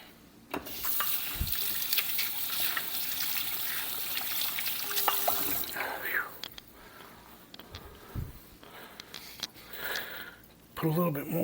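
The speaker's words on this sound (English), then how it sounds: "let me rinse my fingers off here" Tap water runs intermittently as fingers are rinsed at a kitchen sink while making a cordon bleu meatloaf, with splashing bursts, handling noises and quiet voices in between.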